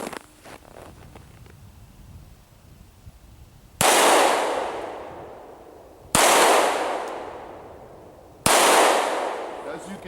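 A stainless Kimber 1911 compact pistol in .45 ACP firing Hornady 220 grain rounds at beer cans: three loud, sharp gunshots spaced about two seconds apart, each with a ringing decay, after quieter handling noise.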